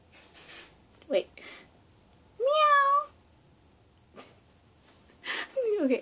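A cat meows a few times, short calls broken by quiet pauses, with one longer drawn-out meow in the middle, while a person talks nearby.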